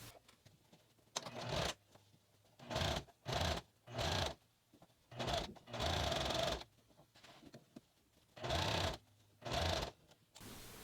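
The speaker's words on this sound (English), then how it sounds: "We just sew this line." A sewing machine stitches an elastic casing on a pair of kid's pants in short, separate bursts of rapid whirring, about nine runs with quiet pauses between them, close and clear.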